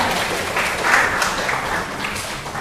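A classroom of students claps for their class leader, a dense, steady patter of many hands that holds for a couple of seconds at close range without talk over it.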